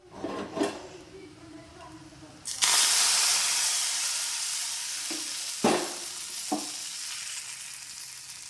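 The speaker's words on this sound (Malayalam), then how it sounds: "ഉലുവയും കടുകും പറ്റൻമുളകും കരിവേപ്പിൻ്റെ ഇടയ്ക്ക് കൂടി കേട്ടോ ഞാൻ വറവിടുന്നത്." Fenugreek, mustard seeds, dried chillies and curry leaves hit hot oil for a tempering poured over sambar, bursting into a loud, sustained sizzle after a few soft clinks, with sharper spits and crackles flaring through it.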